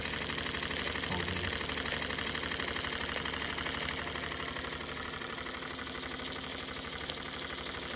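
An unusual early-1970s Jensen Model 55 toy steam engine with oversized 1-inch cylinders runs steadily, a fast even chuffing and mechanical clatter held at constant level throughout.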